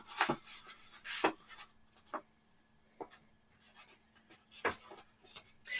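Sheet of paper being folded for an origami crane, quiet close crisp creases and rustles coming in scattered short strokes over a soft, otherwise still background.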